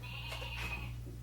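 A toy barn door button sets off a short electronic animal bleat, a single "meh" call over a steady low hum, close and fairly quiet.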